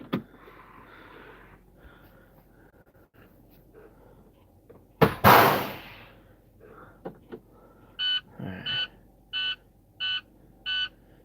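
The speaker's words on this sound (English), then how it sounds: "Isn't that beeping the most annoying thing in the world?" An insistent electronic beeper sounds in a series of five or six evenly spaced, moderately loud beeps near the end, after a sharp clatter and some quiet background rustling. No one speaks.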